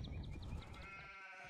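Sheep bleat several times in quick succession in a video game, faint and high-pitched over a busy game soundtrack, with no voices.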